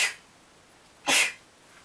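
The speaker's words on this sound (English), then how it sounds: "Oh, I gotta sneeze" A single sharp sneeze, close and loud, preceded by a brief breathy intake.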